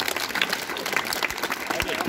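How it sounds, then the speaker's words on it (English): Quick burst of applause at a school quiz event after a correct answer, dense clapping from a nearby crowd, fairly loud and brief. "Give him a big round of applause."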